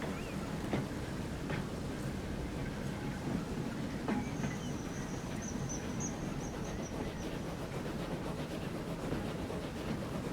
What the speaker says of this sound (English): Oh, there's the other passenger train.